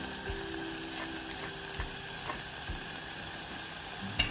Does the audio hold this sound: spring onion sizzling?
yes